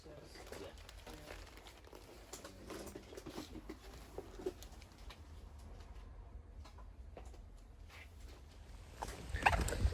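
Steady rain patters outside on a dreary day in Callander, Scotland, a soft continuous wash of drops with scattered taps, fairly close and even in level, growing a little louder and busier at the very end.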